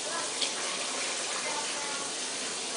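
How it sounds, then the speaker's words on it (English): Tap water pours steadily into a pot of rice, a continuous broadband rush at close range, unbroken for the whole stretch. "1 part rice, 2 part water. That's what we're going to do. Fill it up with water."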